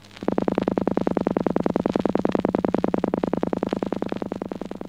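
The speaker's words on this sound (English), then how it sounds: "Pulse wave at 10 cycles." A buzzy electronic pulse wave tone at 10 cycles per second repeats in rapid, even clicks, steady and loud from start to finish.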